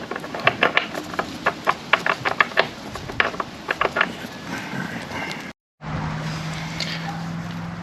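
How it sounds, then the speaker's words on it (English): A ratchet fitted with a 27 mm socket loosening a bolt on a Kawasaki Z900 motorcycle gives a rapid run of sharp metallic clicks, then a brief gap and a steady low hum. "Now we're going to use the number 27 socket and go ahead and crack this bolt a little bit."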